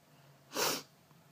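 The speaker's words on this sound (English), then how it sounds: "Sorry about my sniffles. I have the sniffles." A single short, breathy nasal sniff or snort, brief and close, in an otherwise quiet moment.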